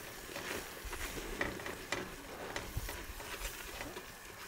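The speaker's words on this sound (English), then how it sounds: "we're gonna stir that real good as it's cooking in here" Butter mixture cooking in a pot for chicken pot pie, stirred steadily with faint scrapes and a soft sizzle, quiet and close.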